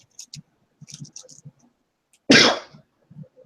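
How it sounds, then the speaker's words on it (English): One sharp, explosive sneeze bursts out amid scattered clicks and quiet murmuring voices, loud and close. "just sneezed."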